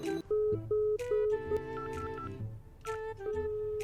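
A telephone ringing with no answer: a melodic electronic ringtone of repeating tonal phrases, clear and close, with no voices.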